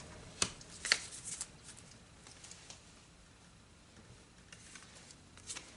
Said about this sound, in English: I'm going to pull out a second card randomly.